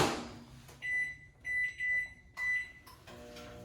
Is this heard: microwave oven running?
yes